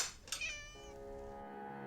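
A domestic cat gives one drawn-out, wavering meow that slides down and then holds a steady tone, close and clear with no voices.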